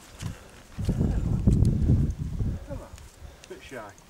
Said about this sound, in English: The horse is there, look.